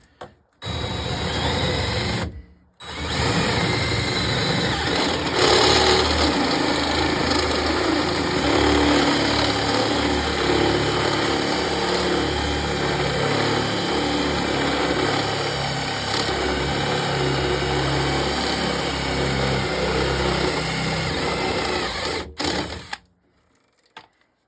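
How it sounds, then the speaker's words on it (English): A step drill bit bores a hole through an arcade cabinet door, a steady loud whirring grind that runs for about twenty seconds after a brief start and stops. "Now we gotta step drill this until we get to the size we need."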